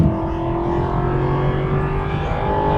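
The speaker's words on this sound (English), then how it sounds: "Aston Martin make cars that sound good." Aston Martin V8 Vantage road car engine running steadily under load from inside the cabin, a continuous low drone with clear harmonic tones and no pauses.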